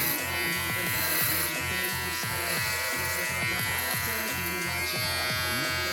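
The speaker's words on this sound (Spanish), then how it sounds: "yo no quiero asentar mucho la afeitadora" A Kemei T299 electric shaver buzzes steadily while shaving, a loud close motor hum with rapid rhythmic texture as it moves over facial stubble, no talking.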